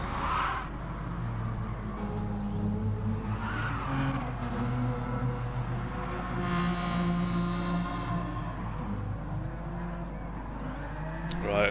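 A race car spins at Brands Hatch in a racing video game, its engine droning steadily while drawn-out tyre squeals rise and fade across the spin, with no talk over it.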